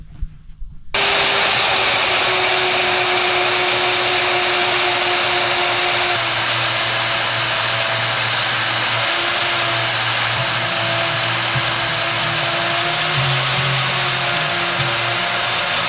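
A power tool cuts out sheet-metal dies for 1932 three-window car doors, a loud steady high-pitched whine that runs continuously after a brief quiet start, close and alone.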